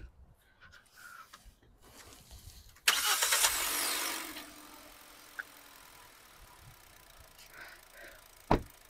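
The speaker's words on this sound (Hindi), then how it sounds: "ये देख लो भाई स्टार्ट हो चुकी है गाड़ी" A hatchback car engine cranks and catches with a brief whirring burst, then settles into a quiet idle with the AC off, with a few soft clicks and a sharp knock near the end.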